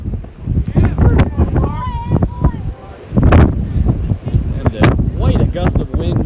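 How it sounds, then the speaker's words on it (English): A strong gust of wind buffets the microphone at an outdoor college baseball game between Central Penn Knights and Penn State Mont Alto, with loud rumbling bursts that come and go under steady commentator talk. "And quite a gust of wind here."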